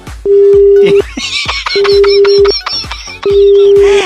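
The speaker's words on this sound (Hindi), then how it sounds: "इन्होंने तो फोन काट दिया है" A telephone disconnect tone after a caller hangs up on a radio comedy call: loud, close beeps at a steady pitch, sounding in on-off stretches with brief clicks and noise between them.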